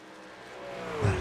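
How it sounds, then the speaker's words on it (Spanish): Race car engine from a virtual oval racing video game rises and roars past, building to a loud, close pitch sweep near the end with no talk. "solo ruido de motores"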